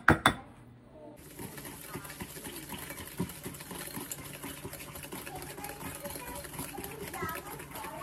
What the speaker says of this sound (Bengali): এবার এই দুটোকে ভালোভাবে মিক্স করতে হবে।